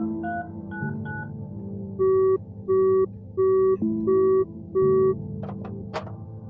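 A telephone is dialed in the video game The Final Station: a quick run of short dial tones, then a row of evenly spaced steady beeps like a busy or ringing signal, ending with a few small clicks.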